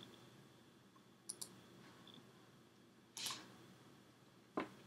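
A few sharp, quiet computer mouse clicks come in small clusters against a faint background hum, with short pauses between them.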